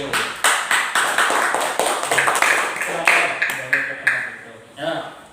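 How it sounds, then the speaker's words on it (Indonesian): Children in a classroom clap their hands together in a sustained round of quick, uneven claps with some voices mixed in, close and fairly loud. "Ya, tepuk tangan dulu."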